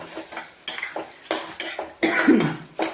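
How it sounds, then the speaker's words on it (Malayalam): Pickle being stirred in a metal pot with a spoon, giving repeated scraping and clinking strokes in an irregular rhythm, close up and moderately loud, with no talk. "എന്നിട്ട് അത് വീണ്ടും ഒന്ന് ഇളക്കിയെടുക്കണം."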